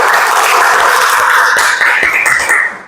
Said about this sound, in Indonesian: Kita berikan aplaus untuk Anggi.